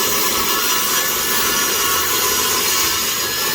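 A saw cuts through wood stops, sills and trim pieces for vinyl replacement window repair, a continuous loud rasping cut running unbroken throughout.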